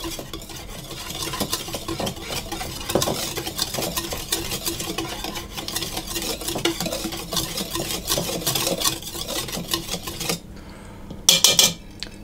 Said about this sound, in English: I'm just going to stir those together to get them combined